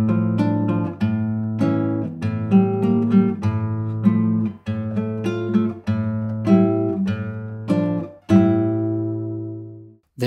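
Classical guitar plays a passage of a habanera, with plucked bass notes and chords in a lilting rhythm, close and clear, ending on a held chord with no talk.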